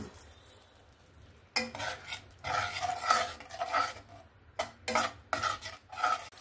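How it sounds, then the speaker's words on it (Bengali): Ground masala is stirred and fried in a pan with spice-rinsing water for a drumstick mustard-poppy seed dish, giving repeated bursts of spoon scraping and clattering over a soft sizzle, close and loud. "এবার যে মশলা ধোয়া জলটা দিয়ে আবারও আমি মশলাটাকে ভালো করে কষিয়ে নেব।"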